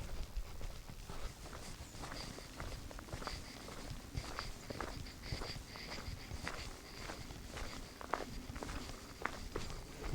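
Footsteps on an outdoor walk in the Black Forest, a steady, quiet, even tread of crunching steps continuing throughout without speech.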